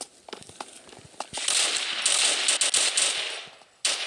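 Rapid automatic gunfire fills an online shooter game, bursts of sharp cracks running together into a dense, loud stream for a few seconds before cutting off, then a final shot, with no talking over it.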